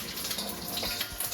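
Oil bubbling and sizzling steadily in a pan while basil beef rice cooks, a continuous close hiss with a few soft pops and no talking.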